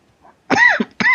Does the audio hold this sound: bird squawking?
no